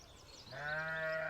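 A single sheep bleat, a wavering nasal call that swells in the second half, fairly faint and alone.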